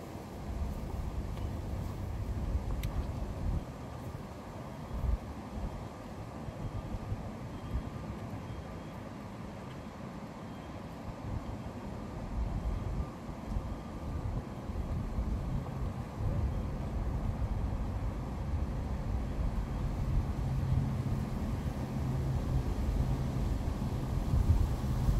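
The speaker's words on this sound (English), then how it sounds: "it's kind of windy, so I'm gonna stop talking because you can barely hear me right now, I'm assuming, because of the wind" Steady low rumbling wind buffeting a microphone outdoors, continuous and fairly loud for the whole stretch with no talking over it.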